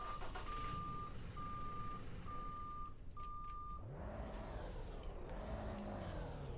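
A 2025 Toyota Tacoma in the Roblox game Greenville, with about 320 horsepower and a turbo, starts up: a steady beeping gives way to an engine that rises and revs twice, heard alone without talking.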